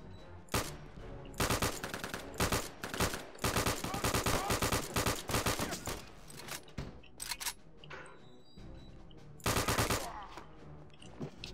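Machine gun fire in the shooter game Return to Castle Wolfenstein, heard as repeated rapid bursts of automatic shots broken by short pauses, fairly loud and close, with the longest strings of fire in the middle of the stretch.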